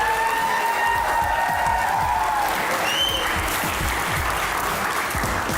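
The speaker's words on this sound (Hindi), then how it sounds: "तालियां बजती रहनी चाहिए।" Studio audience applauding to welcome guests onto a Pakistani comedy talk show stage, loud sustained clapping with a few cheers mixed in, continuous and close throughout.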